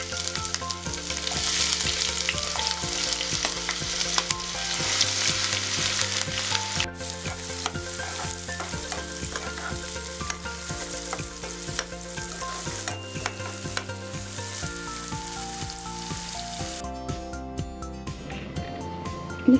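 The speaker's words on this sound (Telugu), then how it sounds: "ఆయిల్ హీట్ అయిన తర్వాత అందులో మనం సన్నగా కట్ చేసుకున్న ఆనియన్ అలాగే పచ్చిమిర్చి వేసుకుందాం" Thinly sliced onion and green chillies fry and sizzle in hot oil while being stirred, a continuous close crackle under steady background music.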